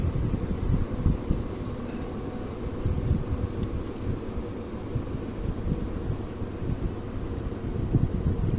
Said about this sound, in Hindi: और अब मैं आपको कूलर भी चला कर दिखा देता हूँ। ये देखिए कैसे इसकी स्पीड वेरी कर रही है।